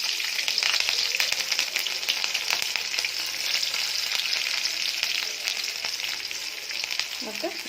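Mustard seeds, cumin and green chilli tempering in about two tablespoons of hot oil for a cauliflower stir-fry, a loud steady sizzle with crackling pops throughout and light stirring scrapes.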